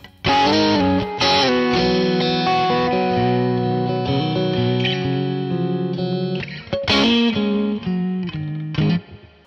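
Electric guitar chords through a Univibe effect pedal ring out with a swirling, pulsing modulation, sustained and loud, with a brief pause and restrum near the end.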